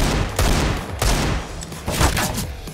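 Bursts of automatic gunfire in the video game CS:GO, several sharp volleys in an uneven rhythm, loud and close with no talk over them.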